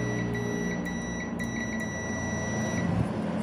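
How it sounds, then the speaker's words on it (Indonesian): A multimeter's continuity beep on a refrigerator thermostat, a steady high electronic tone sounding continuously for about three seconds over a low background hum, then cutting off. "Ketika posisi kompresor hidup dia harus berbunyi bip ini."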